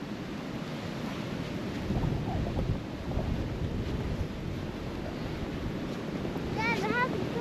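Gusty wind in a snowy blizzard roars steadily into the microphone with surging rumbles, and a brief excited voice cries out near the end.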